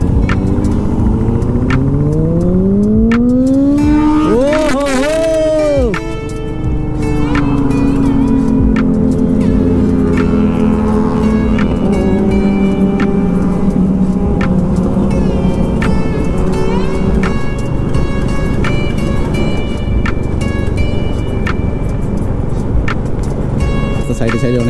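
Many motorbikes in a large Independence Day group ride along a highway from Dankuni Toll Plaza, a steady loud engine roar and whir with passing revs throughout, under someone talking.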